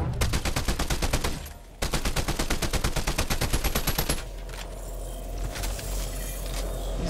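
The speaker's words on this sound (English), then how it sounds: "Can't even hit with the hand cannon" Hand cannon fire in Fortnite, a rapid, evenly spaced string of loud heavy shots with one brief pause, then stopping abruptly and leaving a low hum and faint ambient noise.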